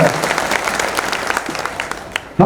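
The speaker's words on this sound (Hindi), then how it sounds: "एक बार सभी लोग तालियां बजाने स्वागत करें।" A crowd at a political gathering for the Avanti Bai Lodhi jayanti claps in welcome, dense and loud, carrying steadily through the whole stretch before stopping abruptly.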